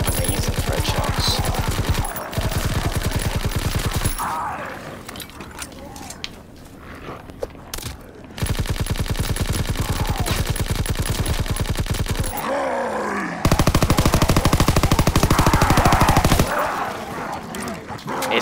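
Rapid, continuous bursts from a Chatellerault light machine gun in a WWII shooter game, long loud strings of automatic fire broken by short pauses, with someone talking in between.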